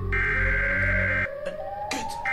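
Siren Head's loud wailing siren call in a video game, a strong sustained tone that cuts off abruptly, then a thinner rising whine with short bursts of noise, no talking.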